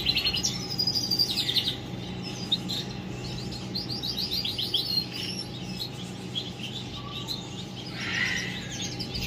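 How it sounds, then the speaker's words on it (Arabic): A caged canary sings in repeated bright trilling phrases over a steady background hum, the song close and moderately loud, with soft chirps from other aviary birds. "شوف الكناري كي تيغرد"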